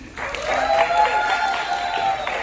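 A live music club crowd applauds loudly and steadily for a performer, a dense sustained clatter of hands mixed with a raised voice over the top.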